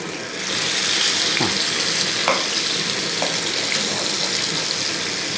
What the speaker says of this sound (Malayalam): ഇനി നമുക്ക് ഈ മീനൊന്ന് ഫ്രൈ ചെയ്തെടുക്കണം.